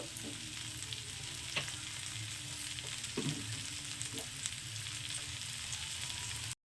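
A spoonful of white cooking oil sizzling in a small kadai, a faint, even crackling hiss with a few soft clicks and no speech.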